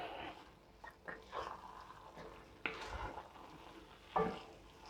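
Oatmeal porridge being stirred in a pan, a quiet soft scraping and shuffling with a few sharper clinks of the spoon, steady and close.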